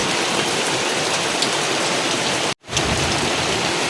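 Heavy rain pours steadily onto surfaces around an outdoor village kitchen, a dense, loud, continuous roar broken only by a short gap near the end.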